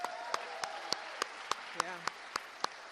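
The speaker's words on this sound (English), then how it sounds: "Another round of applause for all the award winners." Applause for award winners at a college senior student-athlete awards ceremony: a few loud, evenly spaced sharp claps stand out over a softer bed of crowd clapping, with some cheering or voices mixed in.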